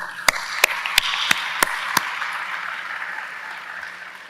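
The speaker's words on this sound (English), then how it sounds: "We do a lot of clapping at these ceremonies" At a virtual university commencement, six crisp hand claps land at an even, slow pace over about two seconds, followed by a soft, lingering room wash.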